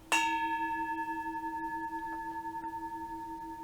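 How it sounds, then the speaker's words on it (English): A single summoning bell struck once, ringing with a clear sustained tone and shimmering overtones that slowly fade, heard alone. "it can be used as a summoning bell with a slightly more of an assertive strike"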